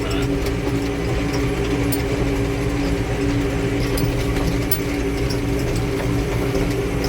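A tractor engine runs steadily while baling soybean hay at night, alongside a 16-foot John Deere 3830 swather, producing a continuous loud mechanical drone with clattering machinery throughout and no talk.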